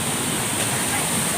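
Steady roar of a waterfall at Gundichaghagi in Keonjhar, water crashing down and throwing spray, a dense constant wash of noise close by.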